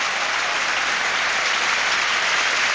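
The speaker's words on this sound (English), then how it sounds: "Martina's mum, Melanie, applauds that one." Crowd applause at a women's tennis final at Roland Garros, a dense, even patter of many hands clapping throughout, fairly loud and without any talk.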